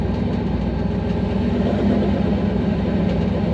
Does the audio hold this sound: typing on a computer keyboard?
no